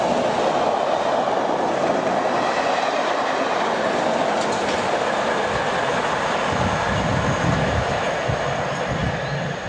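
A Class 73 Network Rail train passes Shortlands station in south London with a loud, continuous rumble and rhythmic wheel clatter, joined by some metallic squealing near the end.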